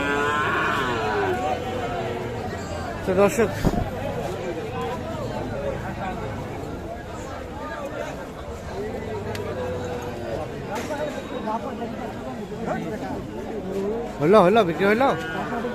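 Cattle, young bulls and heifer calves, low repeatedly amid a busy livestock market, deep drawn-out moos rising over steady crowd chatter and people talking nearby.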